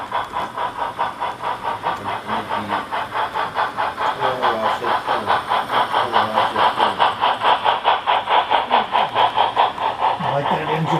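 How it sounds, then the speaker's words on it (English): A Great Northern SP&S freight locomotive hauling a drag freight at Tye runs with a rhythmic pulsing engine throb that grows gradually louder and more insistent, repeating beats stacked in a steady chug. "I like that engine."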